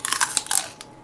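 Crisp bites and crunching into raw celery stalk, several quick crunches close to the mic, with no talking.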